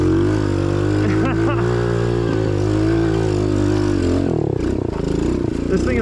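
Engine of a cheap TEMU dirt bike running on a trail in first gear, a loud steady droning hum with pitch rising and falling as the throttle shifts, close up, with a voice partly under it.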